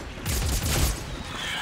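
Enemy gunfire in the video game Dead Space 3 sounds as a short, loud burst of rapid shots, dense and sustained for about a second before tailing off into a lingering rumble.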